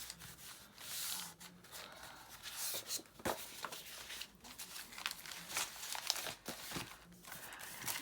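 Paper for a junk journal is handled and creased into a fold, soft close rubbing and crinkling with sharp crisp crackles, quiet and intermittent.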